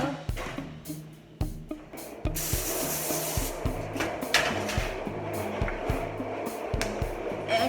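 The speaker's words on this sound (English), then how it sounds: "Non-stick spray, and this is the one I'm using." Non-stick cooking spray hisses steadily onto a cookie sheet for several seconds, close and continuous, after a few sharp taps and clatters of the can and pan.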